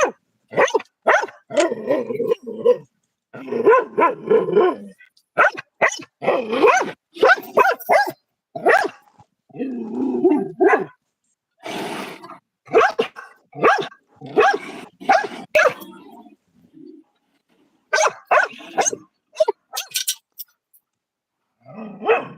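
A dog barks and yips again and again, in uneven bursts with short quiet gaps between them, loud and close.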